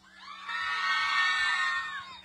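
A crowd at a cooking contest cheers loudly for the winner, with sustained shouting and whooping voices that swell and then fade over about two seconds.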